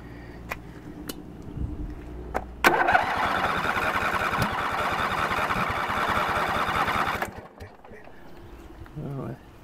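A Craftsman DLT lawn tractor engine cranks for about five seconds in a steady churning rhythm, then cuts off without catching; the cranking is close and fairly loud, with birds and a voice talking before and after.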